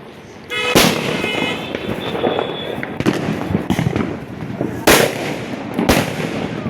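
Mirchi firecrackers burst during Diwali celebrations, several loud sharp bangs in quick succession over a noisy backdrop of crackling and distant fireworks, with a brief voice in between.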